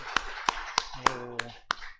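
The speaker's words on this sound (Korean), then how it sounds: "영광의 박수 올려드리겠습니다" Clapping during a Sunday church worship service: about six sharp, evenly spaced claps ring out close and distinct rather than as a dense roar, with a brief voice sounding midway through.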